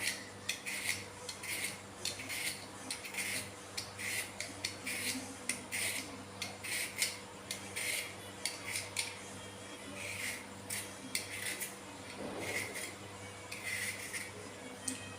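A potato's skin is peeled away in quick, repeated scraping strokes, crisp and close, over a faint steady background hum.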